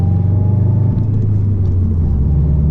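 A Subaru WRX STI with a Borla catback exhaust cruises in casual driving, heard from inside the car as a steady, loud, low exhaust drone that stays even throughout.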